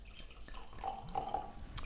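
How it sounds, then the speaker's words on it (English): Unoaked Chardonnay being poured into a wine glass, a short, quiet run of soft liquid trickles and drips with a brief brighter splash at the end, alone. "Now I'm going to pour my Unoaked Chardonnay into my left-hand glass."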